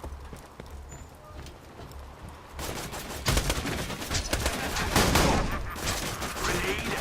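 Gunfire in the video game Borderlands 2, a rapid string of sharp shots that starts sparse and grows into a louder, denser burst with a blast partway through.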